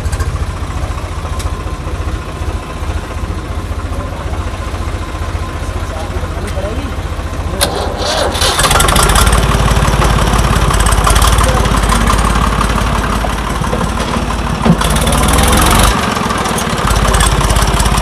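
A self-starting tractor at a tractor market cranks and catches midway, then runs with a loud, steady low rumble; voices talk over the idle throughout.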